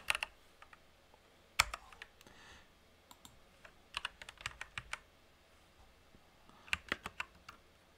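Code is typed on a computer keyboard in quick clustered bursts of crisp keystrokes, close and fairly quiet, with short pauses between runs and no talking.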